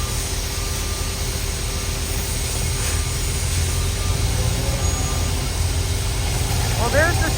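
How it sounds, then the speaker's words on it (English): A cement truck at a residential street reconstruction site runs with a steady, nearby engine drone and low rumble, which continues throughout alongside a constant hiss of background noise. "Well, there's the cement truck."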